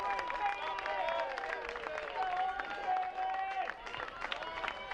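Crowd at a Scarlet Knights soccer match cheering and clapping after a goal, a broad distant roar running under a commentator's voice throughout.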